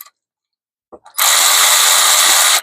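Power tool spinning out bolts during a CVT transmission service on a Jeep Patriot: after a couple of brief clicks, a loud, close, continuous whirring burst runs steadily for about one and a half seconds.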